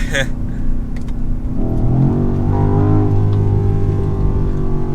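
A 2023 BMW XM hybrid SUV engine revs hard to 6,500 rpm, climbing in pitch through a rising whine and holding at high revs, loud and close, with a voice underneath.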